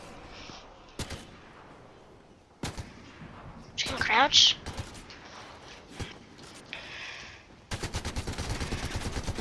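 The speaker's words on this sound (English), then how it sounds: "No, someone's shooting at me." Gunfire in the video game Fortnite during a shotgun-only match: scattered sharp shots and a closing rapid burst of repeated blasts, with a brief spoken word and other game sounds in between.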